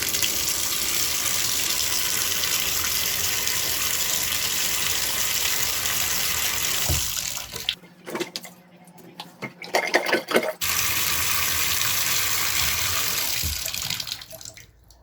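Water drains from a bathtub after a Crystal Heat drain cleaner treatment, a continuous rushing gurgle that breaks into choppy, sputtering gulps partway through before the steady flow returns and fades at the end.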